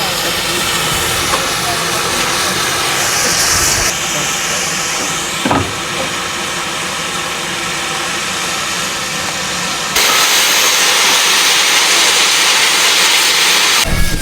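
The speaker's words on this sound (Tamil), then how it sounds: "ட்ரெயின் வெளிக்கிட்டு பாருங்கள், புகை எப்படி கக்குதுண்டு மேலே." A steam locomotive departing on a mountain railway gives off loud, steady hissing and rumbling steam, with brief shifts in intensity and faint voices in the background.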